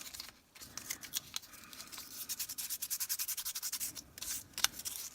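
Light scuffing with 220 grit sandpaper, a quiet run of rapid, rhythmic rubbing strokes near at hand, with brief pauses and a few sharper scrapes toward the end.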